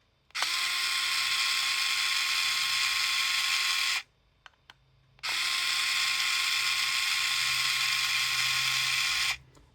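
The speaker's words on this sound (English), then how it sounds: "I'm going to use an electric driver just to speed it up." An electric driver undoes bolts on an SRM emulator unit, giving two sustained high whirring bursts of about four seconds each, separated by a short pause with faint clicks, close and fairly quiet.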